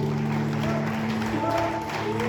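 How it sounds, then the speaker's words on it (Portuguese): Church congregation applauding during a worship service, a dense steady wash of clapping layered under sustained music tones, filling the space without pause. "Aplauda ao Senhor."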